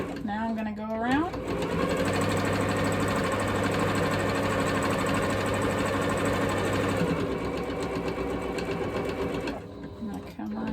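Sewing machine running fast and steadily while stitching a quilted Christmas stocking, a loud continuous mechanical whir with rapid needle rhythm for most of the clip, stopping near the end, with brief talk at the start and finish.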